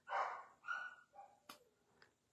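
A household dog barks a few times in short, fairly clear bursts, the barks spaced out and fading slightly toward the end, with no talk over them.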